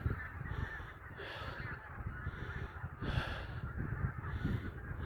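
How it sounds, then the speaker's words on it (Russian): A large flock of geese flies over a snowy village, their overlapping honks rising and falling continuously at a moderate distance over wind and rustling. "Смотрите, сколько гусей."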